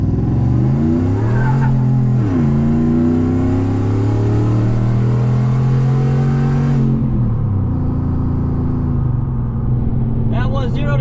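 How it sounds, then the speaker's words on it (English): Inside a Roush F-150 truck with a cat delete, the engine roars under heavy acceleration, its pitch climbing through gear shifts in a loud, continuous drone, with a brief voice near the end. "We're going to do a heavy acceleration from inside of the vehicle now."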